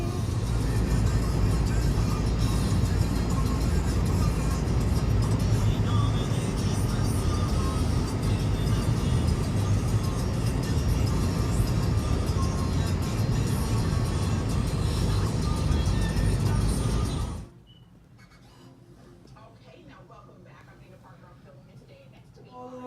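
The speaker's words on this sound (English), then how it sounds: "So that's what I'm doing right now. Driving." A car heard from inside while driving, a steady low road rumble and engine hum for most of the stretch that drops away near the end, with a person talking over it.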